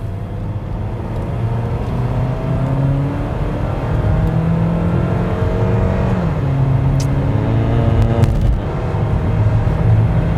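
Kia K7 2.4 GDI luxury sedan accelerating hard, engine note rising through gear changes with a steady road roar, heard from inside the cabin without talk.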